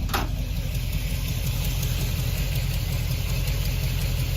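A carbureted 454 V8 in a 1992 car idles with a steady deep low rumble and even mechanical ticking, close and unbroken throughout.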